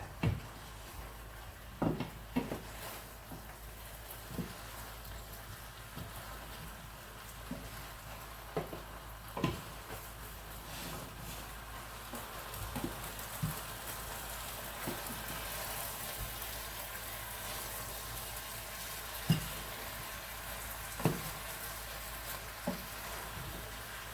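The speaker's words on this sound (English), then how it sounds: "Make sure you have a big pan, enough space for you to stir." Chicken pieces stir-frying in a big pan for Chinese-style Chicken Manchurian: a steady, moderately loud sizzle broken by repeated sharp knocks and scrapes of a utensil against the pan, with no talking.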